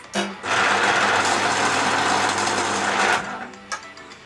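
An electric pencil sharpener whirs loudly for about three seconds, grinding steadily before switching off, with small clicks around it.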